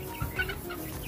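One-month-old Rhode Island Red and broiler crossbreed chickens cluck softly in a pen, a few faint, short calls over a low background hum.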